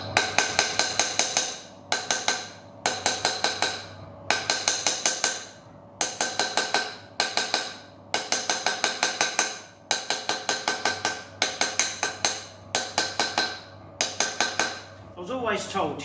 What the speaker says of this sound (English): running the hammer around, making sure you only hit the outer case